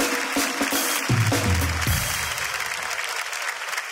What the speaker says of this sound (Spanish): un aplauso para la señora, por favor